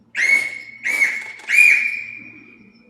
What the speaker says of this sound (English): and then blew her whistle